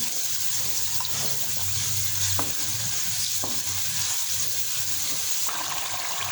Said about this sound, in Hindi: ये देखिए, मसाला जो है हमारा भुन रहा है।